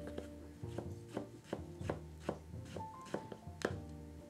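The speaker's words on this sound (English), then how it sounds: "We're just gonna finely chop it." Mint being finely chopped with a knife on a board gives a quick, regular run of crisp, close thuds, about two per second, and no talking.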